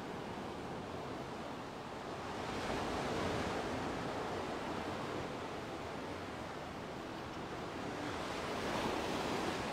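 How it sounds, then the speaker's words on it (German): Steady ocean surf rolls in close by at a beach promenade in the evening, a continuous broadband wash with gentle swells in loudness and no voices. "Und der schöne Wellenrausch"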